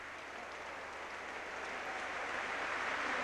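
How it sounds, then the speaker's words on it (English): A distant football stadium crowd applauds a shot in a 1991-92 West Bromwich Albion v Chester match, a faint, steady roar of clapping that swells slightly toward the end. "The crowd appreciate the effort by Shakespeare."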